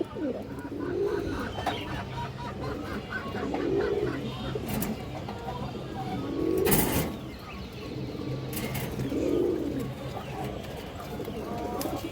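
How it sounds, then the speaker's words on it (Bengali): Pigeons coo in soft, repeated rolling calls at a steady pace, with a female booted-beak pigeon among them, close by against a busy background. "এই যে দেখেন চুইঠাল বা জুটিয়ালা একটা মাদি কবুতর"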